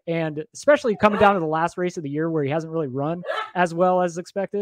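A household dog barking and yipping in the background while someone talks steadily over it, the barks partly buried under his voice.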